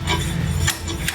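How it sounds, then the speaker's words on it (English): A slide hammer on a Jeep Wrangler JK axle gives a couple of sharp metallic taps close by, over a dull mechanical rumble. "After you attach the hammer slide, just a couple taps."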